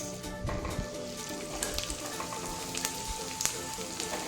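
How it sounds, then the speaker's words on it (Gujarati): Edible gum roasting in wheat flour for sukhdi, a steady, dense sizzle and crackle from the pan with scattered small pops throughout, close and continuous. "આપણે લોટ શેકાય છે તેમાં જ ગુંદર નાખી દેવાનો છે"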